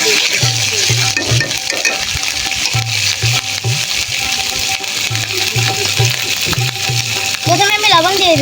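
Beef tripe fries in a pan with cumin, spice and cardamom pastes, stirred in repeated scraping strokes that rasp and clink over a constant loud sizzle.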